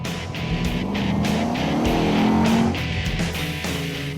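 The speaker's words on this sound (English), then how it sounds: "I just simply have to talk about the soundtrack of the car because, well, AMGs are known to make the best music." Mercedes-AMG convertible engine droning steadily while driving, a loud close rising tone with revving swells and no talk over it.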